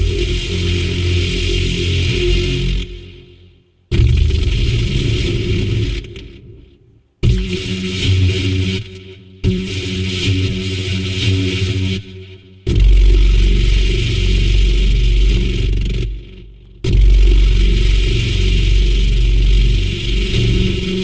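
A crank-start engine sound effect: an engine repeatedly cranks and revs in loud bursts separated by brief gaps of silence, with a rough rumbling low end and mechanical clatter.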